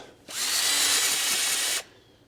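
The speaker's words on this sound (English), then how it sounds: "So I've drilled the hole." A power drill fitted with an auger bit bores a hole in garden soil for planting tulip bulbs, a loud steady whir that starts abruptly, holds for about a second and a half, then cuts off.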